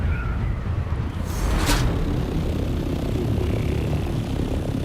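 An aircraft in the Dune Awakening video game flying in before landing, a steady loud rumbling engine drone with a brief whooshing swell partway through.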